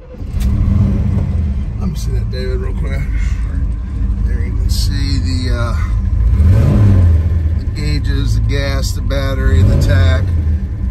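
A 1969 Chevelle SS 427 four-speed rumbles and revs on a test drive while people talk over the engine throughout.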